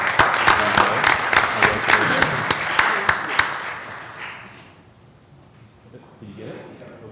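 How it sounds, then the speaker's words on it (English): A burst of clapping from a group at a city council meeting in Flint, sharp claps crowding together for a few seconds before fading away into quiet room tone. "Please give her a round of applause."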